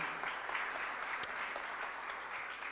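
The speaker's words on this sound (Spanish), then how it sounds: "Vamos a darle un aplauso también de bienvenida a Aroa" A church congregation claps to welcome a newcomer during a Sunday service, a steady, fairly distant wash of applause that holds evenly from start to finish with no voices on top.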